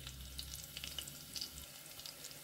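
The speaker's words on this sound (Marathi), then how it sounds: "जस्ट ते काने 1-2 मिनटां बरें फ्राय करून घेवया." Onions frying in a pan, a steady close sizzle with crackles and light stirring that carries on for a couple of seconds before thinning out.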